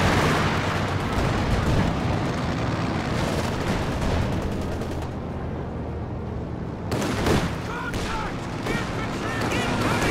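Dense, continuous wartime game battle noise with booming artillery blasts and gunfire from a Panzer Strike in a tank match, loud and sustained throughout with a brief lull midway before the barrage resumes.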